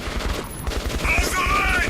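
Soldiers firing guns in Metro 2033 Redux, a dense fusillade of rapid overlapping shots that swells in the second half, mixed with battle noise and faint voices.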